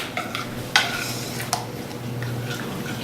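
A spoon stirs melted white chocolate with melted butter by hand in a bowl, giving a few soft scrapes and light clinks over a steady background hum, close and quiet.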